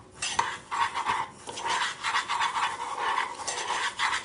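Breadcrumbs stirred through melted butter in a pan give a steady scraping, rustling clatter of a utensil against the metal, close and fairly quiet, repeating for several seconds with no talk.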